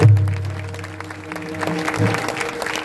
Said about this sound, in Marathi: एकदा टाळ्या वाजवा त्यांच्यासाठी